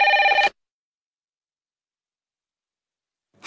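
A telephone at a police station rings in one short electronic trill burst, followed by about three seconds of silence before a second ring begins, loud and close with no talk.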